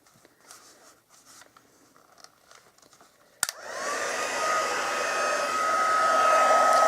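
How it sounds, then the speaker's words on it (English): A Stampin' Up heat tool starts with a click and blows a steady, loud rushing whir to melt embossing powder on a stamped leaf, after a few seconds of quiet handling noises. "I'm putting the heat tool on"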